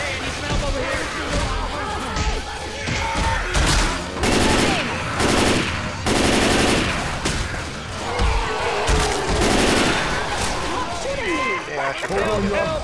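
Heavy gunfire in Left 4 Dead 2 co-op on the Swamp Fever campaign comes in repeated loud bursts and rapid fusillades, with players talking over the shooting throughout.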